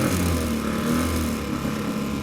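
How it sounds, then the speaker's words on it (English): Boat outboard engine idling steadily after starting with the choke, in neutral on a reservoir; a continuous low mechanical drone with a slight wavering pulse, close and fairly loud, no talking. "Once you've got the engine started, you shouldn't require too much choke."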